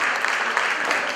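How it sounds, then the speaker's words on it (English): Brief applause for the High Commissioner of Canada to Ghana at a Beyond the World Cup power breakfast, a short burst of steady clapping from the gathered audience. "Let's give her a big round of applause."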